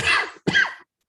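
A single close, quiet sneeze breaks into two quick bursts, a sharp intake and then the explosive release, followed by silence.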